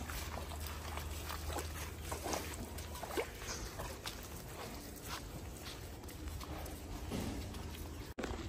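A bull walks along and its hooves clop in a steady, soft rhythm. The steps sound fairly distant and quiet over a constant hum of background noise.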